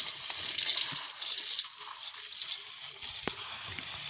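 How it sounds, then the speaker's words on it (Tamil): Leftover chillies dry-roasting and being stirred in a pan, giving a steady close hissing, rustling scrape with small clatters throughout. "நாங்கள் இப்போ மிச்ச மிளகாயை இப்படியே வறுத்தெடுப்போம்."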